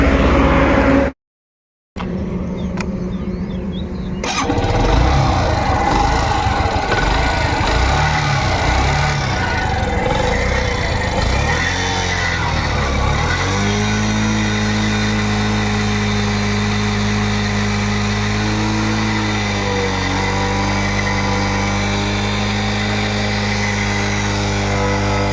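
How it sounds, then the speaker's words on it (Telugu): A 2014 Yamaha YBR motorcycle engine idles close by, a steady mid-pitched putter broken by a brief dropout early on, then rising a little and settling into an even running hum. "చూడండి ఫ్రెండ్స్, ఇంజన్ సౌండ్ కూడా వినండి"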